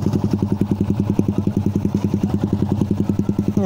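A Suzuki Raider motorcycle engine runs close up, a loud, rapid, evenly pulsing exhaust putter with a rough, clattering edge, steady across the few seconds.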